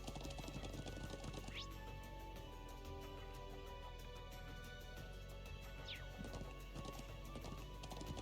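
Steady clip-clop of horse hooves at a gallop in a video game, continuous and fairly close, with a low rumbling ambience underneath and no talking.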